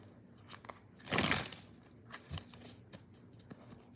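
A deck of tarot cards is riffled in one loud, close burst, followed by lighter handling taps and rustles in a quiet room.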